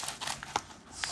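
Brief soft crinkling and snipping of plastic packaging being cut with scissors, close and quiet, a few quick crackly bursts.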